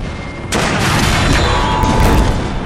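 A cannon shot hits the player in a historical war game, a loud sudden blast followed by sustained rumbling gunfire and battle noise.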